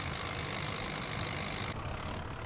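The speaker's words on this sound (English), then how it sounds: "A good little Ford tractor." A Ford tractor engine in Farming Simulator runs at a steady, even drone and sits close and constant for the whole short stretch, with no talk.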